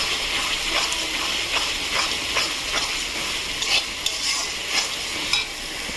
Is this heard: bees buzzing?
no